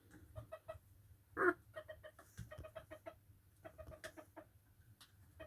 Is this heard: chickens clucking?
yes